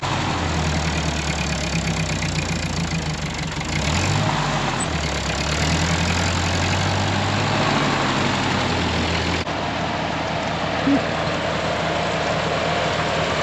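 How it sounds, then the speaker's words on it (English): A farm tractor engine running steadily while clearing a barnyard, a continuous low diesel rumble with a brief rise and fall in revs partway through, close and loud with no talking. "You guys heard your favorite tractor, huh?"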